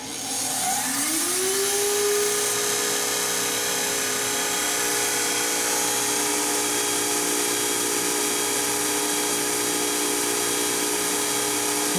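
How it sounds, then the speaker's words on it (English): An Okamoto OGM-820UST universal cylindrical grinder's ID spindle spins up with a rising whine, then holds a steady, loud high-pitched whir with no talk. "The ID spindle."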